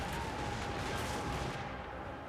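A volley of handgunner musket fire in Total War: Warhammer 2, a dense, loud crackling roar of many overlapping shots held steady throughout with no talk.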